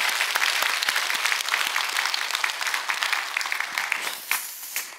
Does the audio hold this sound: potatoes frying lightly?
no